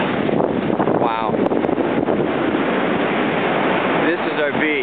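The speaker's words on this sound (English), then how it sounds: "These waves are still coming in here." Strong wind buffets the microphone as ocean surf rolls and crashes steadily onto a storm-eroded beach after Hurricane Ida in Ocean City, Maryland, a loud continuous roar with no talk.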